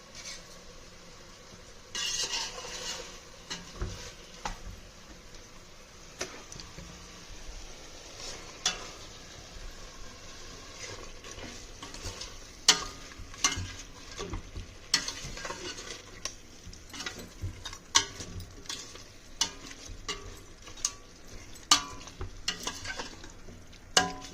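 A spice mix is stirred into mutton in a pot, giving soft, repeated scraping and knocking strokes of a spoon against the pot over a faint background, with sharper clinks here and there.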